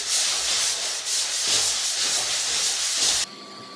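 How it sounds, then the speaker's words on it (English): Steady, harsh rasping of sandpaper scrubbing filled plaster walls, continuous with slight rhythmic strokes, close and loud, then stopping abruptly. "I gave it a first pass at sanding"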